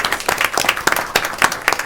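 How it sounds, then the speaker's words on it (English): Audience at a school board meeting applauds for teachers, a steady burst of many hands clapping close and loud throughout, with no talk over it. "So just join me in clapping it up for our teachers."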